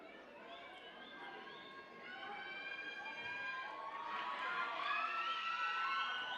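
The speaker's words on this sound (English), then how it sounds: "You can hear the crowd." Stadium crowd at an athletics grand prix meet in Namibia, a broad steady roar with rising whistles and shouts that grows noticeably louder over several seconds.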